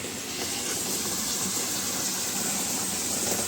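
Water driven by a 0.5 HP motor pours into a tank, making a steady, even rushing and splashing that holds at the same level throughout, close by and uninterrupted.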